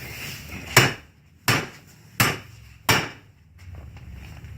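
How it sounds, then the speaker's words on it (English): A flat hammer taps a U-joint into place on a 1996 Chevy Blazer: four sharp metallic strikes at a steady, unhurried pace, close and clear with short decays and no talking. "always make sure to use a flat hammer"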